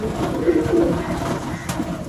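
Haifa pigeons cooing in a loft, a couple of close, throaty coos with faint background noise.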